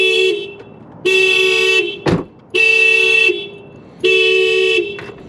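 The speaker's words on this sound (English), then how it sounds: "I don't think I remember how to shut off this alarm." An Acura NSX car alarm blares in repeating electronic horn bursts, three long loud tones with pauses between, plus a sharp click in the middle.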